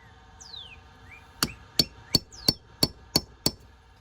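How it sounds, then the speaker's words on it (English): Seven sharp hammer taps on a tool striking a wall to start a dimple for a drill bit, evenly spaced and close, during a mini split AC outdoor unit install, with a faint bird chirp in the background. "So I just take this and start a little bit of a dimple in the wall so my bit doesn't walk around as much."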